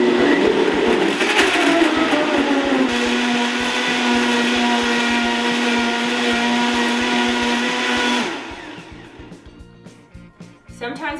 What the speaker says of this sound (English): I'm gonna just put it on the smoothie setting.